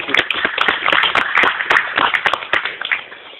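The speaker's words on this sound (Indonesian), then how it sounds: "Tepuk tangan buat Pak Reza." At a gathering in Banda Aceh, an audience claps for Pak Reza, a fairly close, lively burst of many hands with uneven peaks that tapers slightly near the end.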